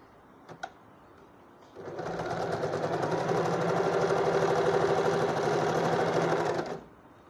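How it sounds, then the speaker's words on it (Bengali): A sewing machine runs a continuous seam joining two fabric pieces near the edge, a steady close mechanical whir that starts after a couple of faint clicks and stops cleanly near the end. "প্রথমে দুটি পার্টকে একত্রিত করে ফেব্রিকের এজ বা প্রান্ত থেকে 1/4 ইঞ্চি দূরত্বে বা 1/2 ইঞ্চ দূরত্বে সেলাই করা হয়"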